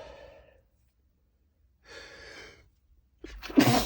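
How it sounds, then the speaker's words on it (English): A person in a car lets out a sneeze, preceded by breathy sighs and soft exhales with quiet gaps, ending in a sharp, loud burst close to the microphone. "I gotta sneeze."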